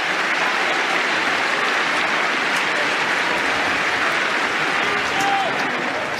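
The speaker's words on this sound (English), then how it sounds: "So, cheers from the crowd." A tennis crowd at the French Open women's final claps and cheers in a continuous, loud wash that barely varies, with no voices standing out above the noise.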